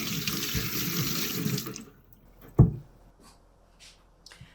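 A kitchen tap runs steadily for a couple of seconds while cucumber is washed under it, then shuts off. A single close knock and faint clinks follow in near quiet, with no talking.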